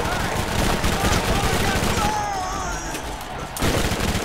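Rapid bursts of gunfire from the Borderlands remaster video game, dense and continuous, with game sounds layered over them and voices talking throughout.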